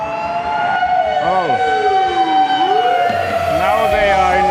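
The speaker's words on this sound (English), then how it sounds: "now they are in a hurry because they use the sirens" Emergency vehicle sirens wail along a street in Hiroshima, Japan, loud and close with rising and falling sweeps overlapping, while someone briefly speaks over them.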